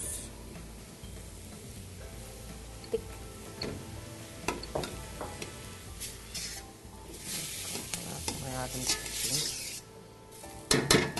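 Boiled beef cubes for Uzbek pilaf drop into a hot pot, giving several clanks of metal and spoon against the pot under a soft sizzle of frying. Stirring scrapes grow busier toward the end.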